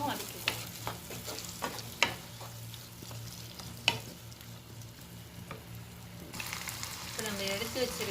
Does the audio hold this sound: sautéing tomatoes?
yes